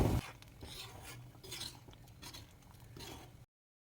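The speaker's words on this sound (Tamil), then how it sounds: "நல்லா கிளறி விட்டுடலாம்." A utensil scrapes and rubs around a pan of thick ash gourd and chana dal gravy in slow, repeated strokes, soft and close, with faint clinks before the sound cuts off.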